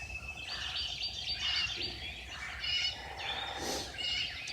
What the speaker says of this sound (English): Breathe and listen to the birds.